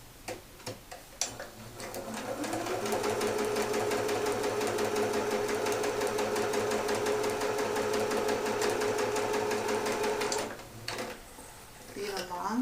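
A sewing machine stitches fabric pieces together in a steady continuous run of about eight seconds, preceded and followed by scattered clicks and handling knocks, close and moderately loud.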